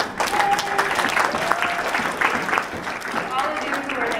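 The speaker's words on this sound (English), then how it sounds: "Clap, clap." Applause from a conference audience fills the room, a busy crackle of many hands at close range with a few voices and cheers mixed in, steady from start to finish.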